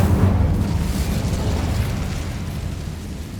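An Incendio fire spell cast in Hogwarts Legacy, a dense, roaring burst of flame that hits at full strength and slowly fades over a few seconds, with no other sounds.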